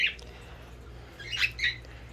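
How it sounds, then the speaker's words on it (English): Pet birds squawking indoors after being let out of their cage, a few short, bright calls spaced across two seconds, moderately close over a quiet room hum. "I'm gonna let out the birds, because I've been working and they haven't got to come out a lot lately"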